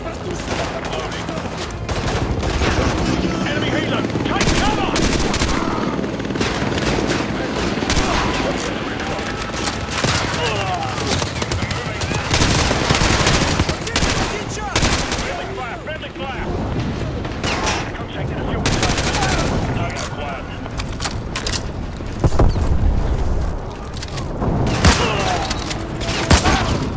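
Heavy automatic gunfire and explosions fill a military shooter video game hostage-rescue mission, with dense sustained bursts throughout and urgent voices calling out over the loud, continuous firefight.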